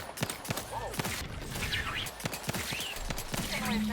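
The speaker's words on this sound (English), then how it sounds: "guns are blazing" Rapid gunfire crackles through a combat fight in The Outer Worlds 2, with repeated sharp shots, bursts and mechanical clatter under a low background hum, and voices briefly heard in between.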